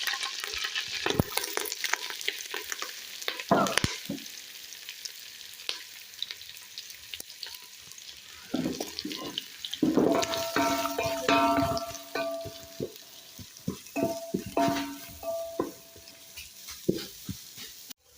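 Onions fry in a pot over an outdoor village cooking fire with a steady sizzle as a spoon stirs and scrapes repeatedly, under scattered clatter and brief whining sounds, close by and moderately loud.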